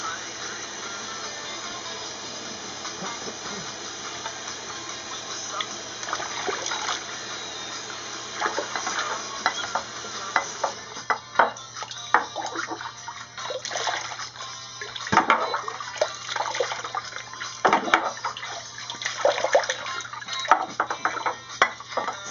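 Water splashes and runs steadily as a Boston Terrier puppy gets rinsed during its first bath, with louder bursts of splashing toward the end and a person talking softly over it.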